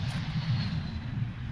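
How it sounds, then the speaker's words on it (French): An airplane passes overhead as a low, steady rumbling drone, fairly faint and distant, with no voices during the sound. "c'est juste un avion"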